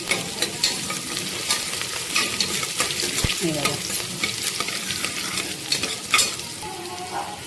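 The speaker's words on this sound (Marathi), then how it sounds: "हे बघा कांदा भाजत" Chopped onion frying in a hot pan of tempering while a spoon stirs it, a loud continuous sizzle broken by repeated scraping strokes and a sharp clink of utensil against metal.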